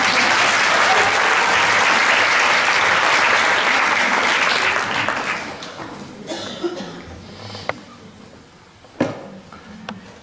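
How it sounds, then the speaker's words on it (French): Sustained applause from a large audience at a Franciscan retreat teaching, dense and loud for about five seconds, then thinning into scattered claps and tapering off. "Applaudissons Ted."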